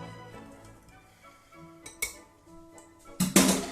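A metal whisk clatters into a kitchen sink, a few soft clinks followed by a louder bright metallic clatter at the end.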